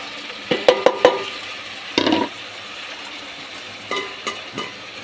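Tomatoes are stirred into okra curry frying in a pan, a steady sizzle beneath several close, sharp scrapes and taps of a spoon against the metal.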